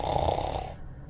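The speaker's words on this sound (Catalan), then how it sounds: "Ella roncava." A woman snores once in a single rough, rasping breath that fades out after a moment, heard close and alone.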